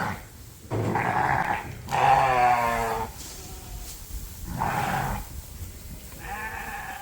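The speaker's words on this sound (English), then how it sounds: "there's a lot of noise as he feeds some grain to" Lambs bleat loudly and repeatedly in a barn while being fed grain, several overlapping calls close by, with pauses of rustling and shuffling between them.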